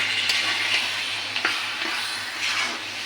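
Olive pickle cooked with sugar cane jaggery in a pan, a soft steady sizzling hiss broken by a few sharp spoon scrapes and taps as it is stirred, close up over a low hum, no talking.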